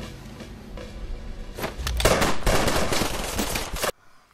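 Gunfire in a scene from the 2008 film Gran Torino: a rapid, loud volley of overlapping shots that builds over a couple of seconds and then cuts off abruptly into near silence.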